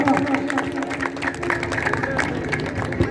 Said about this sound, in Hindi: मैंने तालियों के साथ स्वागत किया जाए हमारे मुख्य महोदय का